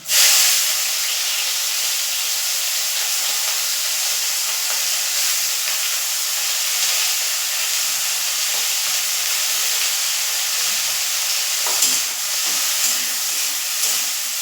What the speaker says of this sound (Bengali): চিংড়িটা একটু ভাজা ভাজা মতো করে নিয়েছি।